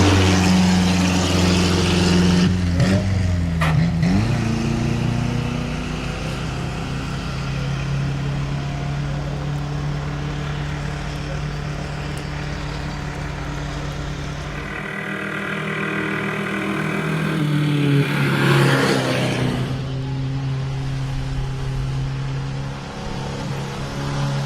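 An Austin 7 Ulster replica races up the Shelsley Walsh hill climb at full throttle, its engine droning steadily and loudly past, with a gear change and a swelling note near the end.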